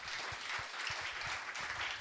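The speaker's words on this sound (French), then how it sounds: "on peut l'applaudir" Audience applause at a French environmental ambassadors' pitch event, a steady wash of many hands clapping at moderate distance, continuous for about two seconds with no talk over it.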